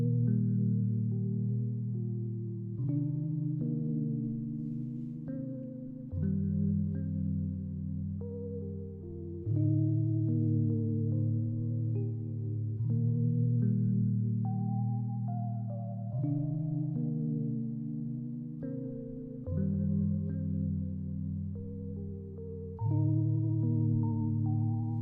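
A Keyscape software piano plays a slow top melody over sustained chords for a chill lofi beat, washed in stereo reverb, with phrases changing every few seconds at a steady, moderate level and no voices.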